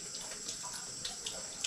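Tap water runs steadily into a plastic bag packed with apples, a soft continuous splashing gush with small irregular bursts, heard close but quiet, with no talking.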